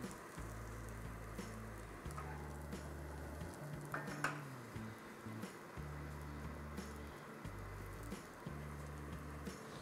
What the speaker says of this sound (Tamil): இது வந்து நல்ல லைட் பிரவுன் கலர்ல அந்த பட்டர்லயே குக்க ஆகணும்.